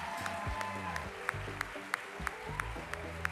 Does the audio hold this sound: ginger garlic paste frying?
no